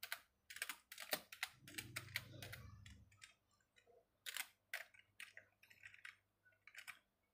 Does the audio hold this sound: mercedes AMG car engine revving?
no